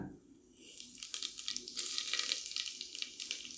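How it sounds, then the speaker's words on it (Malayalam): Cumin seeds drop into hot oil in a pan while cooking pav bhaji, giving a steady close crackling sizzle with bright spattering pops that build after the first second and carry on to the end. "ചൂടായ എണ്ണയിലേക്ക് നമുക്ക് കുറച്ച് ജീരകം ഇട്ട് കൊടുക്കാം"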